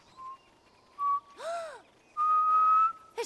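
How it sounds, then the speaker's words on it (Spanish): A person whistles a few short steady tones and one swooping note during Spanish-language gameplay of The Last of Us Part 1, clear and close against near silence, with a sharp click at the end. "Estoy silbando."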